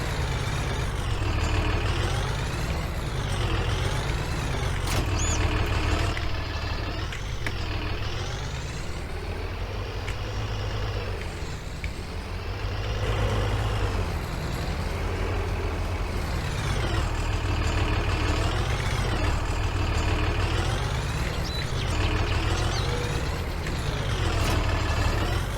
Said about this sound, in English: This tractor sounds so good.